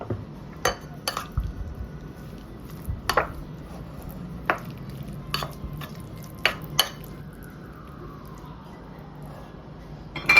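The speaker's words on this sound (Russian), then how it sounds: "Ну и соль, конечно же. Немножко соли. Перемешиваем." Salt being stirred into a tomato dish, with a spoon clinking and tapping against the bowl or pan several times, scraping and knocking at irregular intervals, fairly close and quiet, with no talking.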